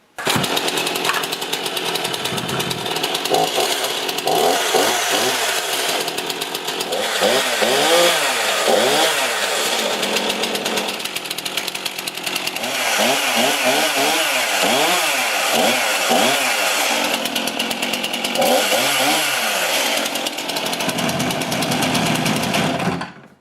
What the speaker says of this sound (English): just so that you guys can see it run once more before the video is over